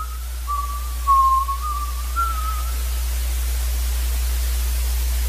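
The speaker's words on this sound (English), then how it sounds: "heard a familiar whistling coming from outside" A single steady whistle in a video game wavers for a couple of seconds over a constant hiss of static, then fades, leaving only the noise.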